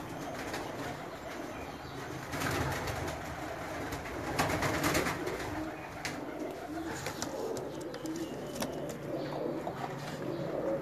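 Pigeons in an old loft cooing steadily in a low, rolling murmur, several birds close by, with faint rustling and occasional background voices throughout.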